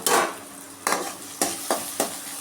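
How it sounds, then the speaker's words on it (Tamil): Onions sauté in hot oil with mustard seeds for an okra and egg stir-fry, a close sizzle punctuated by four or five sharp stirring scrapes at regular intervals, with no speech. "வெங்காயம் கொஞ்சம் வதங்கட்டும்."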